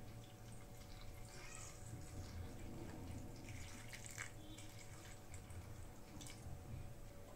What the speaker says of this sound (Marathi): आता यात पाणी टाकून घेते।